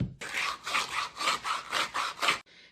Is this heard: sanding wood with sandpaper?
yes